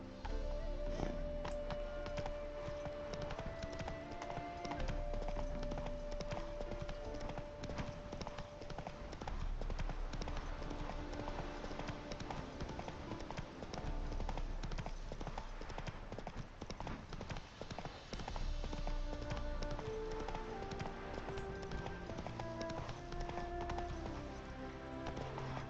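Horse hooves gallop in The Witcher 3 as a rapid, continuous clip-clop that lasts throughout, loud and steady over game music and ambient noise.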